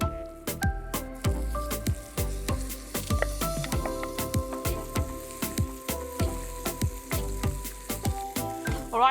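Chilli sambal paste cooking in a pan, a steady close sizzle broken by repeated rhythmic clatters and scrapes of stirring against the pan, continuous throughout with no talking.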